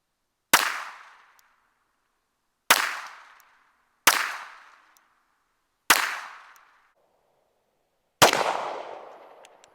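An MPA double-stack 9mm pistol fires five separate sharp shots at an outdoor range, each a loud crack with a short decaying tail, spaced a couple of seconds apart.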